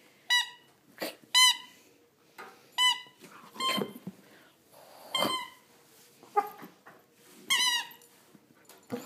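A puppy whines and whimpers in a string of high, thin cries, close by, with short pauses between them.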